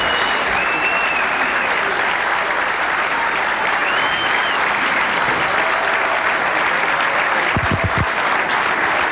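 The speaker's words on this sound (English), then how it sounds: "And let's have another great round of applause for the great champion, Allison Fisher." Dense, loud audience applause at a pool semi-final, sustained and even throughout, with faint voices and a few scattered whistles or cheers rising over the clapping.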